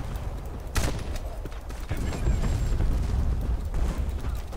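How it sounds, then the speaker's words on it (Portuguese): A grenade detonating in the online shooter Black Squad, a sharp blast near the start followed by another burst and a rumbling gunfire-laden aftermath, with faint voices in the background. "Nossa, olha a granada que o cara fez, velho."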